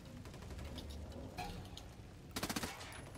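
Video game gunfire: a short rapid burst of automatic shots near the end, preceded by fainter scattered shots and background game noise, fairly quiet overall.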